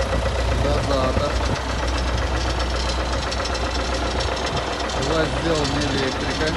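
MTZ-82 tractor engine idling with a steady, knocking diesel chug, close and continuous throughout while someone talks over it.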